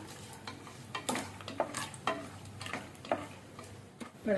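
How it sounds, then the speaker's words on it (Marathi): Peanuts dry-roast in a pan for bisi bele bath. Faint, intermittent rattling and scraping strokes sound as they are stirred, spaced about half a second to a second apart. "नेलकड्डे बी समाची भाजून येवं"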